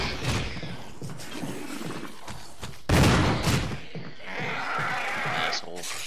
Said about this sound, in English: The shotgun should have a better chance of hitting it with its spread.